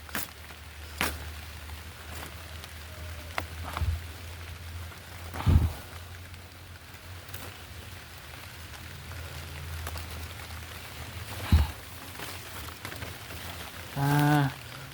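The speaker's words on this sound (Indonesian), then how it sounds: "Jadi hujan guys ya." Rain falls on a coffee plantation as a soft, steady patter, broken by a few sharp knocks and brief rustles close by, with a short burst of a voice near the end.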